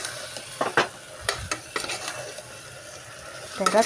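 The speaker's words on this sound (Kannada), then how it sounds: "ಚಿಕನ್ ಹಾಕ್ಕೊಂಡು ಪೂರ್ತಿ ಮಿಕ್ಸ್ ಮಾಡ್ಕೋಬೇಕಿತ್ತು ಚಲೋತ್ನಾಗ" A spoon stirs chicken through sizzling masala in a pan for chicken curry, giving scraping, clattering strokes in an irregular rhythm over a steady close frying hiss, with no voices.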